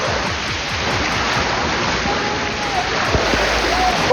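Loud, steady rushing water at Sahastradhara Waterfall near Dehradun forms a dense, constant roar, with faint voices and a few brief knocks close by.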